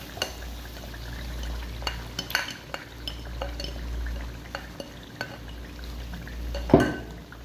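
White urad dal fries with spices in a pot while a spoon stirs and knocks against the metal in irregular close clicks, over a low steady sizzle, ending in a louder scrape.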